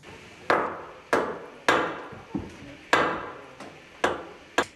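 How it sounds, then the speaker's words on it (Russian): A hammer strikes wood in regular, sharp blows, about seven evenly spaced knocks, while a wooden staircase in a two-storey apartment building is repaired; each hit rings briefly and fades, with no talking. "Молотку, пилам и дрели в 26-м доме на Печорской жители несказанно рады."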